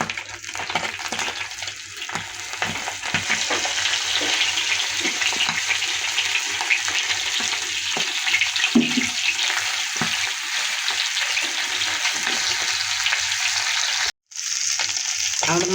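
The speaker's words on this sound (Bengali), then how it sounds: "আমাদের মাছটা পাল্টানো হয়ে গেছে, আর এক সাইডটা ভাজা হয়ে যায়" Bata fish sizzling in hot oil in a pan, a steady bright crackle running throughout, with occasional soft clinks and a brief drop out near the end.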